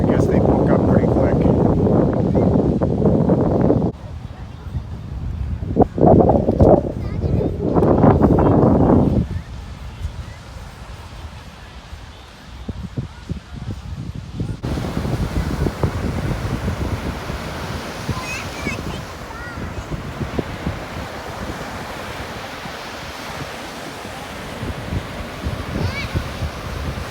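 Surf and wind on an Assateague Island beach along the Atlantic, a steady broadband wash with gusty rumble; louder bursts early on give way to a thinner, continuous roar of waves, with voices talking over parts of it.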